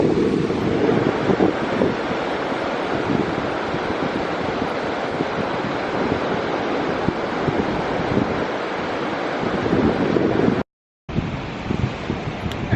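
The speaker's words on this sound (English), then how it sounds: "And we are back at the beach this afternoon, enjoying the sun and the water." Wind and surf at Rocky Point beach, a steady loud roar of breaking waves and wind noise on the microphone, broken by a brief cut near the end.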